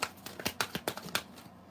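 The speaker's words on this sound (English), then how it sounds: "y'all hear me shuffle, right?" Tarot cards shuffled by hand in a quiet room, a rapid series of about eight soft, crisp riffling flicks in under two seconds, close and alone.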